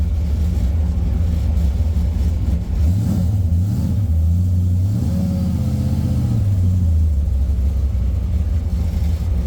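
A supercharged 1968 Chevrolet Camaro engine revs hard nearby, its loud rumbling note climbing and falling in several quick surges as the car accelerates, with no talking over it.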